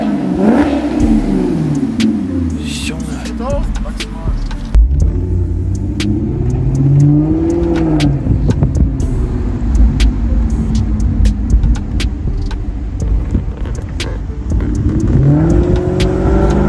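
A Maserati GranCabrio MC engine revs hard and pulls away, a loud continuous roar and rumble that rises and falls through the gears, close by and with no voices over it.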